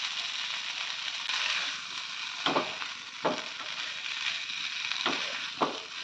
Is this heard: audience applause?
no